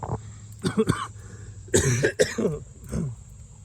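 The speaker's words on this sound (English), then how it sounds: "I'm just coughing, that's all I'm doing." Several coughs and throat-clearing bursts, close and fairly loud, in quick irregular succession with short pauses between them.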